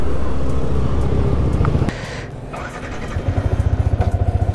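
A motorcycle engine catches and settles into a steady, close idle with a rapid regular pulsing thump, loud and alone, as a rider sets off from a hotel in New Tehri near Tehri Dam.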